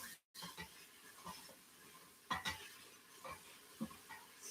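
Food is stirred and sautéed in a pan during a home dinner, with intermittent scraping and clacking strokes over a low sizzle, quiet and close, each stroke a short distinct burst.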